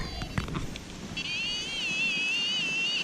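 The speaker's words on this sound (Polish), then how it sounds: "ciągle pada." Rain falling in a forest, a steady soft hiss under a few brief knocks and rustles near the start, then a thin whistling tone drifts in over the constant patter.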